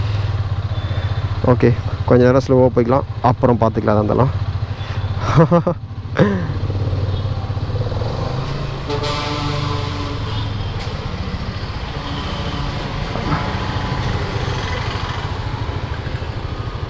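A Hero Karizma XMR 210 motorcycle idles and runs with a steady low engine drone that carries through the whole stretch, while someone talks over it at the start.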